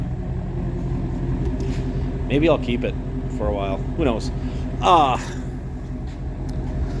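A 2018 Ford Mustang Shelby GT350 idles with a steady, deep exhaust rumble running throughout, while someone talks briefly over it.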